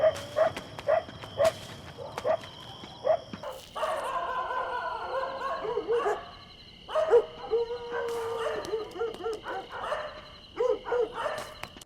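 A dog barks and yips repeatedly in a film scene, the sharp calls coming in irregular bursts with whimpering between them, set against a quiet ambient background with a steady high hiss.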